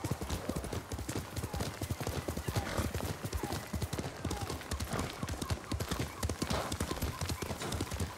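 Rapid, steady clip-clop of horse hooves galloping in the video game Ghost of Tsushima, a continuous rhythmic drumming with no talking over it.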